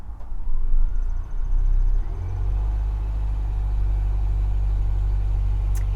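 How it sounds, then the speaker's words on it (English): A 2021 Volvo XC90 Recharge T8 plug-in hybrid starts its engine when switched to a sporty drive mode, a brief rise followed by a steady, close, low idle rumble. "now if I go to sporty driving, the car you'll hear the engine start"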